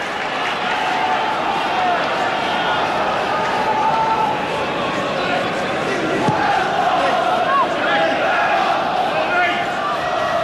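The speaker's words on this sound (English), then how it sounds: "The crowd from the Wrexham end appealed." A steady, loud roar from a football crowd at a 1992 Wrexham versus Arsenal match, broad and continuous with a commentator speaking over it throughout.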